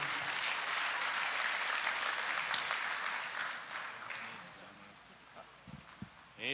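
A church audience at a Mother's Day service applauds in a dense, loud wash of clapping that gradually thins and fades, leaving a few scattered claps and faint voices toward the end.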